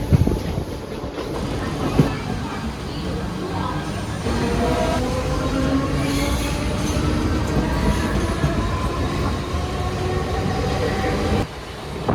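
A Howrah–Mumbai Mail express train rumbles slowly past in Mumbai, steadily, with rattling wheels and faint metallic squeals, continuous and fairly close, with no talking.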